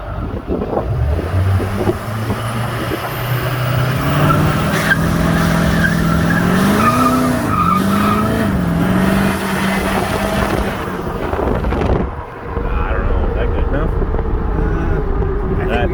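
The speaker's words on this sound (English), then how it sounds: "thought we'd stop and just make sure the tires still spin okay" Burnout truck fitted with a new blower, its tires spinning and squealing under a loud, sustained engine roar with a rising whine, cutting off sharply near the end before the engine noise resumes.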